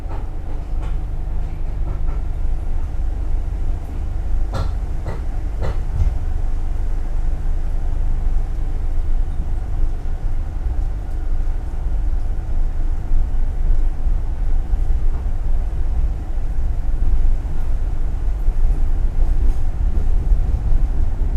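A Sancaka Utara passenger train out of Surabaya Pasar Turi rolls along its line, heard as a constant low rumble with a faint tonal hum and a few sharp rattles and clicks partway through, steady and unbroken without talk.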